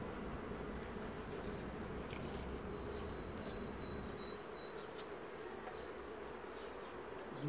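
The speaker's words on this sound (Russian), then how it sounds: "первые молодые пчелы." Honeybees buzz around an open beehive during a spring honey harvest, a dense, steady swarm drone that is fairly faint and continuous, with a few individual bees passing close.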